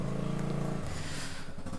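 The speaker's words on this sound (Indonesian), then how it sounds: "Ini ada suara motor nih sebentar." A motorcycle passes nearby with a steady buzzing engine note that shifts pitch midway as it goes by, fairly loud and alone without talk.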